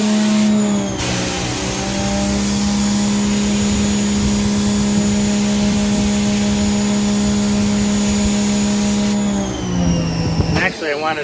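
A car wash rinse sprayer switches on with a steady, loud motor whine and hissing spray that holds for several seconds before cutting off near the end.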